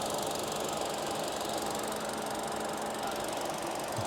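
The naturally aspirated 1.5-liter four-cylinder Gamma 2 MPI gasoline engine of a 2026 Hyundai Stargazer X runs at a steady idle, giving a continuous even mechanical hum and whir with no speech.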